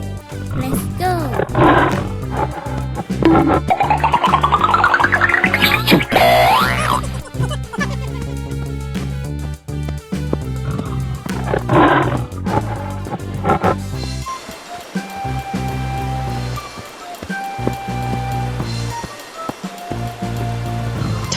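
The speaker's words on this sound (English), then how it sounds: "Tiger." A cartoon tiger's roar mixes with bright music and playful sound effects, loud and busy, with the roaring swelling early before the track thins out.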